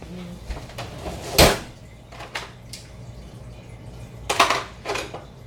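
Kitchen utensils handled while a baker fetches a teaspoon measure during a live cake-baking session: a sharp clack, scattered lighter knocks and a rattling cluster of metal clinks near the end, with quiet room noise in between.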